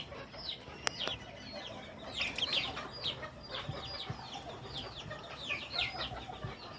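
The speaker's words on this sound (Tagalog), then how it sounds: "Monkey D. Luffy chicken, oh." Bantam chicken clucking in quick, high chirpy bursts, repeated irregularly over steady outdoor background noise, moderately close.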